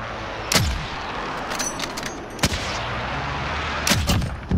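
Three sharp gunshot cracks spaced a second or two apart ring out over constant battlefield background noise in the video game Call of Duty: Modern Warfare.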